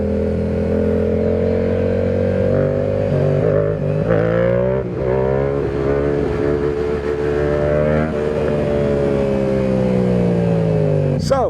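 Yamaha R7 motorcycle engine droning loud and steady during a standing wheelie, its pitch rising and falling with throttle changes while a voice talks over it.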